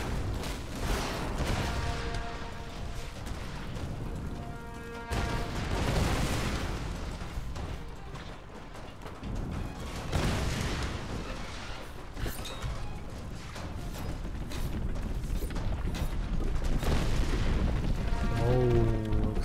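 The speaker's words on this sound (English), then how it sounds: "Oh, explosion, fire." Deep booming explosions erupt in rolling bursts as a tower blows up in the video game Tomb Raider, with crashes and rumbling debris, loud and chaotic, a few bits of speech mixed in.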